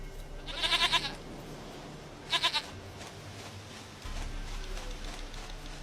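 In The Witcher 3, a goat bleats in two quick trembling bursts over a steady outdoor ambience with a low hum, fairly faint and without talk.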